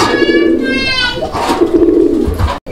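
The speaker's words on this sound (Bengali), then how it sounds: "আমার খুব পছন্দের একটা কবুতর ভাই, দেখেন" A large, colourful pigeon at a market coos loudly and close up in soft, throaty rolling calls that repeat across the moment.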